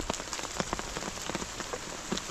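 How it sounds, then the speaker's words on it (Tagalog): Heavy rain patters steadily on a surface, dense drops tapping close by in a constant wash with no voices. "Lumakas na yung ulan."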